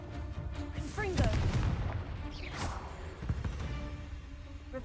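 Blasting spell explosions in a Harry Potter video game: a quick whooshing cast bursts into a booming blast, with a second swooshing blast a moment later, all fairly quiet and set against soft background game sounds.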